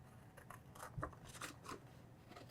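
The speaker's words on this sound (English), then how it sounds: "now I just need to take my scissors again and trim around this so the shape matches." Scissors snip through card stock while trimming around a cut shape for a mini album craft, a few quiet crisp cuts with short pauses between them, close and faint.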